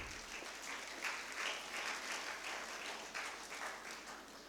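Steady round of applause from a conference audience at the closing of a two-day international conference, continuous dense clapping at moderate distance with no talk over it.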